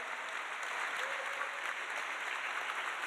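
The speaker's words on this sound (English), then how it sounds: "Let's give them both a big round of applause for continuing the great work." At a charity auction dinner for a dog rescue, the room breaks into a dense, sustained wash of applause that is steady but somewhat distant.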